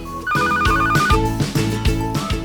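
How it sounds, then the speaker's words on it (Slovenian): A telephone rings at a rescue station in a children's bedtime story, a bright repeating electronic trill with steady tones over soft background music, loud and close with no talk. "Na postaji zazvoni telefon."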